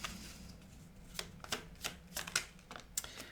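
Small tarot cards being shuffled and drawn, a quick, irregular run of soft papery flicks and snaps spread across a few seconds, close and fairly quiet against a low background hum.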